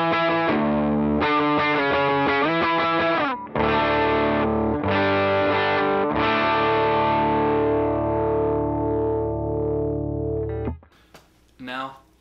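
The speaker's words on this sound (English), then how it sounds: "As always with these demos, I'm using my Vox AC15, mic'd up with an SM7B. Let's give the dry signal a listen." Clean, dry electric guitar through a Vox AC15 amp, miked with an SM7B, played as sustained ringing chords with clear attacks that fade out, then a brief bit of talk at the end.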